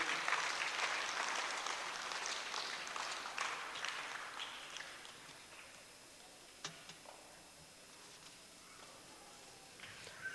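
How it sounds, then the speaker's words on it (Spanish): Church congregation applauds during a Spanish-language service, sustained clapping at moderate level that thins out and fades midway, leaving scattered faint claps and taps. "Denle un aplauso fuerte al Señor"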